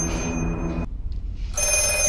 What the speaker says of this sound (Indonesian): tiba-tiba telepon itu berdering